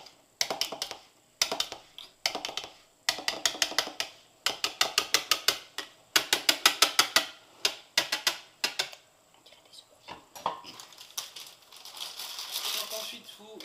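A whisk re-whips chilled, slightly gelatinous pastry cream for vanilla profiteroles, giving close, rapid clicking strokes in repeated bursts with short pauses between, then softer scraping toward the end.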